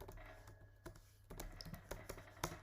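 Fast, irregular keystrokes on a computer keyboard while a search is typed into Google, crisp close clicks in short bursts with a faint steady hum underneath.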